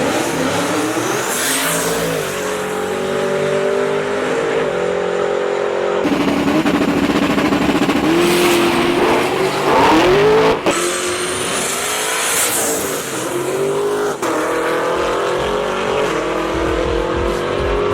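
Race cars at a track roar past with loud revving engines and shifting pitch, one after another, a continuous near engine drone without talk.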